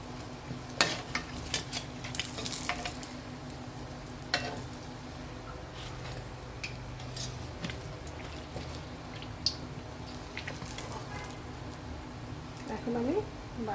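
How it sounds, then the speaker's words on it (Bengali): Dal puri frying in hot oil, a low steady sizzle with occasional scrapes and clinks of a utensil against the pan, heard up close. "এভাবে করে আমি বাকিগুলো সব ভেজে নিব"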